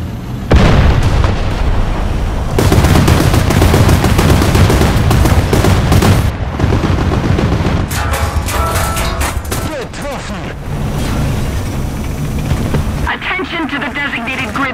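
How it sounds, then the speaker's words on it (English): Artillery barrages and gunfire from War Thunder, a dense, continuous roar of booms, bursts and rapid shots filling the whole stretch, with game voice callouts mixed in over the battle din. "Unser Sektor liegt unter Artilleriebeschuss!"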